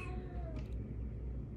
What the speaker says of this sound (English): that's my oldest cat, if you hear him, because the door's closed and all of a sudden he wants to go out of the room.